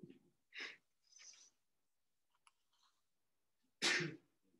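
A single sharp sneeze bursts out loudly near the end of a quiet stretch in a classroom video call, preceded by faint breaths and small noises.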